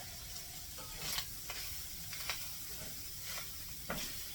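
Ground burger meat coated with flour frying in a pan, a steady soft sizzle with intermittent spatula scrapes and stirring strokes, close and fairly quiet, no voices.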